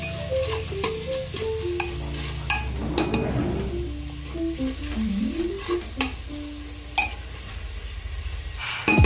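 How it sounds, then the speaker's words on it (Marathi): Masala for spicy mutton keema fries in oil, giving a close sizzle under repeated spatula scrapes and taps against the pan, with some tonal squeaks and a louder knock at the end. "मसाला तेलावरती चांगला परतून घ्यायचा"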